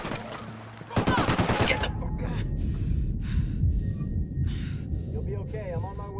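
A sudden burst of rapid automatic gunfire erupts in a Tom Clancy's Ghost Recon Wildlands firefight, crackling loudly for about a second before giving way to rumbling ambience, scattered distant shots and people talking.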